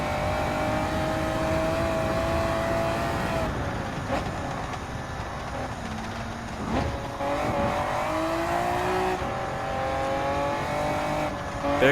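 A Honda NSX Type R '02 in Gran Turismo 7 races the Nurburgring Nordschleife, its engine note loud and steady, rising through the gears and dipping at shifts, with a brief tire squeal into a corner.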